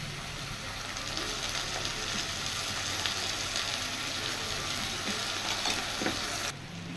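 Onion paste sizzles in hot oil for a prawn puri dish, a dense continuous frying hiss with occasional stirring clicks, steady and close throughout, no talk.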